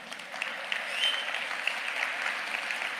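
Audience applause at a Tamil motivational talk by Parveen Sultana: a dense, even wash of many hands clapping, fairly close and steady for a few seconds with no voices over it.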